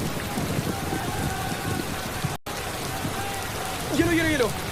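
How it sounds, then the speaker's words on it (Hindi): Steady rain falls outdoors as a soft, even hiss with scattered drop patter. The sound cuts out briefly midway, and a short voice-like sound rises near the end. "बारिश आ गई।"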